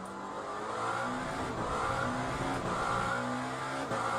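GTE race car in the Le Mans Ultimate racing game, engine droning loud and steady with rising and falling revs as another car closes in behind, no talk.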